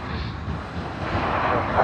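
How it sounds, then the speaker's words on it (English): Airbus A330-200 airliner taxiing at Sydney Airport, its engines giving a steady, broad rumble and whine at moderate distance that builds slightly toward the end. "That's the A330-200."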